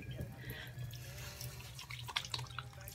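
Room-temperature water runs from a tap and splashes as an AHA 30% + BHA 2% peeling solution is rinsed off the face, a steady close trickle with a few sharper splashes near the end.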